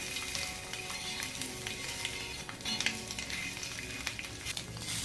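Boiled eggs frying in a pan for a Maharashtrian egg masala, a bright continuous sizzle with occasional pops and utensil clinks, close up and without speech.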